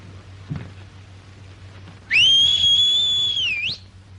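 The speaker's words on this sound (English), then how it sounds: "Give him a whistle." One loud, sustained whistle to call a horse, with a slight rise at the start and a dip at the end, sounding close against a quiet background.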